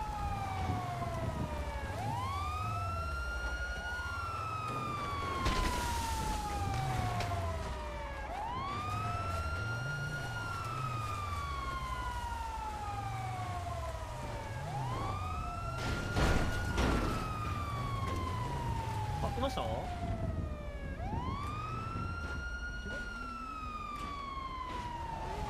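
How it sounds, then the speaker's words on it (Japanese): Police car sirens wailing in a video game, several overlapping rising-and-falling siren sweeps repeating steadily and loudly over a low engine rumble, with no talk over them. "5019らへんでパトカーめっちゃ鳴ってると思う"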